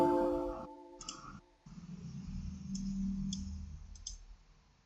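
A computer mouse clicking while a post is copied: a handful of soft, isolated clicks spread over several seconds above a low, quiet room hum.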